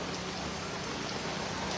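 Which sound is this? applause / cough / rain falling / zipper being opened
rain falling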